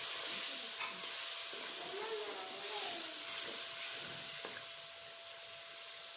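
Onion, tomato and chana dal masala fry in a pan with a steady hiss and sizzle, while a utensil stirs intermittently and softly scrapes the pan.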